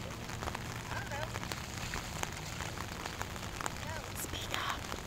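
Steady rain falls in a continuous soft patter and hiss, with scattered droplet ticks throughout and faint voices in the background.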